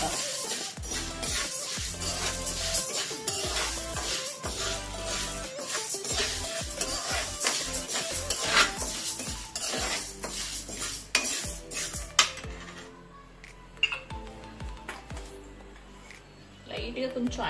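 Toor dal dry-roasted in a pan on a low flame, with a metal spoon steadily scraping and clinking against the pan and grains rattling, loud and close, easing off near the end while a voice talks over it.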